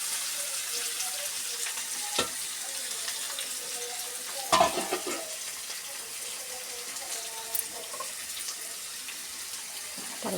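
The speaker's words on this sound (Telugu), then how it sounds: "పచ్చిమిర్చి వేసాను అనమాట, తర్వాత ఆనియన్స్ వేస్తున్నాం ఫ్రెండ్స్" Green chillies and onions frying in oil for an egg and boondi curry, a soft continuous sizzle with occasional sharp knocks and scrapes of a spoon, close and steady.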